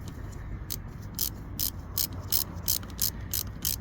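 A ratchet with a 7mm socket tightens a jubilee clip on a car's turbo hose, a run of sharp metallic clicking bursts in a steady rhythm, close and distinct over a low background hum.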